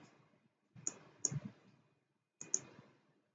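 Computer mouse clicks while working in SolidWorks CAD software, three or four close, sharp, dry clicks in two small bursts with quiet pauses between them.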